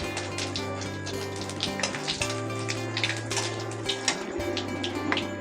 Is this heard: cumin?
yes